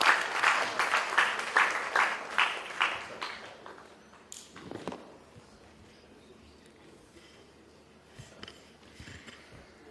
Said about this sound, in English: Round of applause to the very illustrious panel over here.